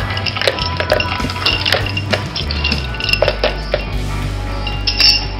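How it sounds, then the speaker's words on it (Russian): Ice cubes clink and rattle sharply into a glass blender jar holding peach puree for a cocktail, a series of close, bright knocks over a low motor hum. "Добавляем лед."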